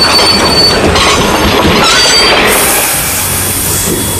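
A train brakes to a stop on its tracks with loud, continuous rumbling and high squealing wheels, and a brief hiss toward the end as it halts.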